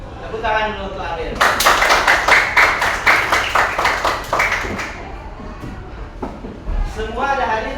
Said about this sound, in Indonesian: Tepuk tangan dulu untuk Abel.